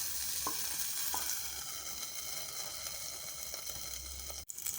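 Kallappam batter cooks on a hot ghee-greased dosa griddle, a steady close sizzle with a few light taps, ending in a sharp clunk.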